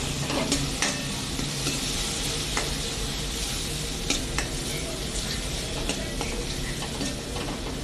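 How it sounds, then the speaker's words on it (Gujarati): Onion and tomato mixture for rava dosa is stirred in a hot pan, a steady sizzle with scraping spoon strokes and occasional sharp clicks against the metal, close and continuous. "બધું બરાબર મિક્સિંગ કરી લેશું"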